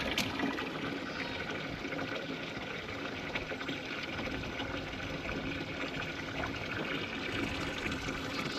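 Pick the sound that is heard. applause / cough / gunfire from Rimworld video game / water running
water running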